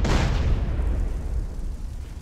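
A deep, booming explosion from Grand Theft Auto San Andreas, loud at the start and rumbling down over about two seconds with no voices.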